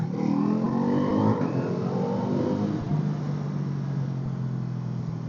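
Road traffic with cars and motorcycles passing, an engine revving and accelerating close by before settling into a steady mid-level drone, continuous without speech.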